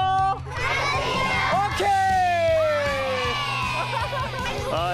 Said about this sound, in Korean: 아이들의 함성 소리가 제라 씨의 활기를 불어넣는 듯 했습니다